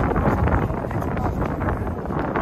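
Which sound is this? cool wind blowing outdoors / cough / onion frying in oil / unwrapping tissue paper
cool wind blowing outdoors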